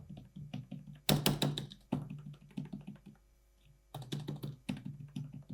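Someone types on a Philips Momentum thin-key membrane gaming keyboard, producing close, quick clusters of soft tapping keystrokes broken by a couple of brief pauses, with a few louder bursts.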